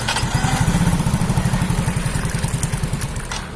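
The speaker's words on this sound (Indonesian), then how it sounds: "lalu kita nyalakan ya" A Yamaha Mio J scooter engine, one with a rough, rattling running sound, fires and runs close by with a steady, fast chugging pulse and a clattery edge, continuing without pause and with no talking.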